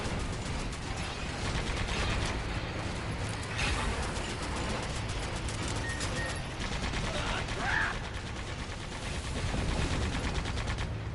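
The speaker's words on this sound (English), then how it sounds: "Use the machine gun again." A machine gun rattles in the action game Sand Land, rapid continuous firing with mechanical clatter mixed into busy game sound, steady and fairly loud throughout, with a voice faintly present.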